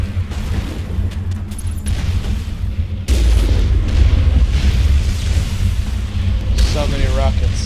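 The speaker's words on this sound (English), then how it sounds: "So many rockets." Rockets exploding in the video game Mass Effect, heavy booming blasts with a sudden loud hit partway through and continuing rumbling impacts, plus a voice speaking over the battle.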